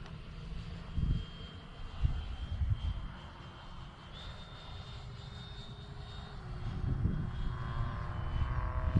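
A Freewing Avanti S RC jet flies overhead, its steady ducted-fan whine holding on with brief rising tones. Outdoor wind noise rumbles underneath, and the aircraft stays at a moderate distance throughout.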